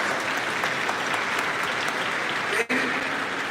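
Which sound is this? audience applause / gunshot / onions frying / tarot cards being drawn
audience applause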